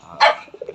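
A pet dog gives a single sharp, angry bark close by, followed by faint grumbling yips, as it lunges at the family's birds.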